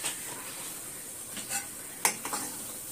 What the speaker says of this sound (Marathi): थोडंसं तेल सुटेपर्यंत तेलामध्ये फ्राय करून घ्यायचा मसाला